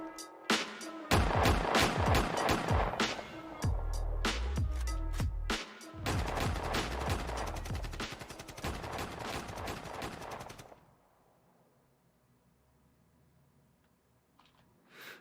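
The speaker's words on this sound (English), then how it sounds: "We've just got the shots and we've got the drums." Rapid gunshot sound effects rattle over heavy rap drums and booming bass in a hip-hop track, dense and loud for about ten seconds before cutting to near silence.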